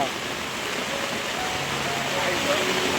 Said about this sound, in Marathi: खतरनाक पाऊस आहे